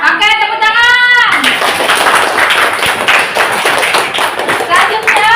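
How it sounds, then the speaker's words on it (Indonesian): Schoolchildren clap their hands together in a classroom after a science lesson, a lively burst of brisk, close clapping following a short spoken phrase, with a few voices mixed in. "Oke, tepuk tangan."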